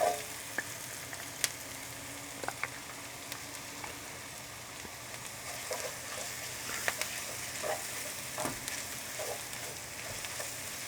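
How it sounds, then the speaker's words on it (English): Tomato paste and turmeric sautéing in a pan for Persian barberry rice with chicken, giving a steady soft sizzle with scattered small pops and stirring clicks, moderately close and without talk. "By sauteing the tomato paste, it just brings its color"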